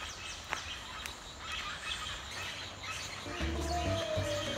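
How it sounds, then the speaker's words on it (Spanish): Birds call and chirp in a jungle, scattered short tweets over a constant bed of ambient noise, with a brief tonal call near the end. "Toma un momento para escuchar los pájaros en esta jungla."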